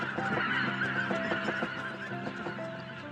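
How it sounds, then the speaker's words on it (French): Wild geese honking repeatedly in overlapping calls, a flock nearby, loud and continuous with no talk. "Les oies sauvages sont déjà de retour."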